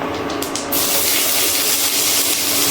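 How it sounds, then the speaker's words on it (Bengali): Chopped medium onion dropped into hot spiced oil for a Bengali chayote and prawn curry, bursting into a loud, steady sizzle that fills the whole clip with no talking. "এবার এর মধ্যে দিয়ে দিচ্ছি পেঁয়াজ।"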